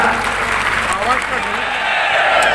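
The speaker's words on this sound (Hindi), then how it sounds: "आप सबकी ओर से, हम सबकी ओर से ये जोरदार तालियां" Crowd at an outdoor political rally in Shahjahanpur breaks into loud applause, dense clapping running continuously and close, with voices mixed into the din throughout.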